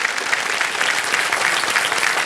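A television quiz-show studio audience claps steadily and loudly, a dense, even wash of applause that continues without a break.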